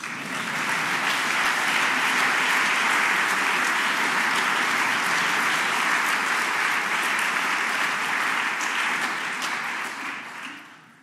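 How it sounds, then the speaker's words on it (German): Sustained, dense applause from an audience at the Leibniz Prize award ceremony, steady and loud for about ten seconds before tapering off at the end. "Also Sie dürfen da klatschen."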